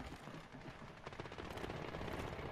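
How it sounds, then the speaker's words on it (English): Gunfire in Call of Duty: Modern Warfare, sounding as dense, continuous rattling bursts of automatic weapons mixed with a low rumbling roar, steady and loud throughout the short stretch with no voices. "They're shooting over there."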